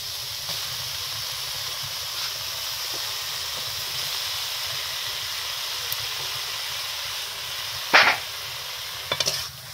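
Salted, turmeric-coated potatoes sizzle in oil in a kadai with a steady, close frying hiss, broken near the end by a few sharp utensil clinks and scrapes.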